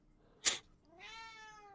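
A cat gives one clear, drawn-out meow with a rising then falling pitch, following a short sharp noise, faint and close with no talking.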